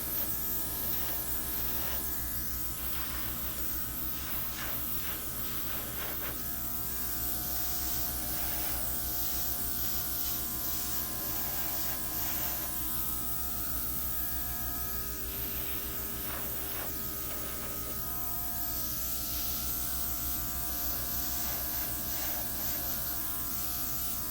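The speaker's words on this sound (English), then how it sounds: "now I'm going to blow out some of my edges with my favorite little airbrush." Small airbrush hissing acrylic paint in a steady, close spray over a Dutch pour canvas with metallic acrylic paint, a continuous airy rush with a faint compressor hum, no voices.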